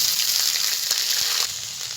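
Ginger paste hitting hot oil in a pan while cooking a Bengali chicken dish, giving a steady close broadband sizzle that holds for about two seconds, with a slight dip in the crackle near the end and no talking.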